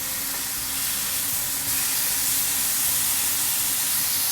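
Marinated pork neck with sugar sizzles loudly while grilling in a pan, a dense, steady hiss that swells slightly partway through and carries on alone without talk.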